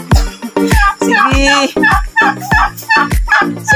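Chicken clucking on a farm as the bird is caught, a loud, close series of squawking fowl calls in a rapid broken rhythm, with a brief spoken word.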